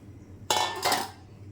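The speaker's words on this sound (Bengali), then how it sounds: "ঢাকনা দিয়ে ঢেকে দিলাম।" A metal lid set onto a cooking pot on a stove while water heats, giving a sudden clattering clank followed by a second ringing contact that fades quickly in a quiet kitchen.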